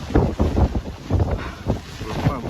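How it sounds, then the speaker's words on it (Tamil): Strong gusts buffet an open umbrella on a rainy street, coming as rough, uneven rushes of low flapping and roaring close to the microphone, with no talking. "இப்படி போனோம்னா பிரச்சனை இல்லை, காற்று பின்னாடி இருந்து அடிக்குது."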